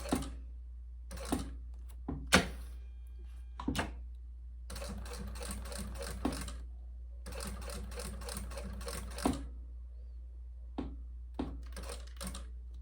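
Short bursts of a sewing machine stitching a plastic luggage tag, several rapid mechanical runs of a few seconds each, separated by quiet pauses and sharp clicks, close and alone.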